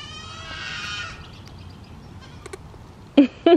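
A Nigerian Dwarf goat bleats once, a wavering nasal cry up close, followed by quiet background and a couple of short sharp clicks or squeaks.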